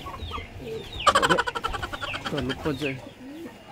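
Birds at a loft give short clucking and cooing calls in quick bursts, fairly close, while someone talks over them.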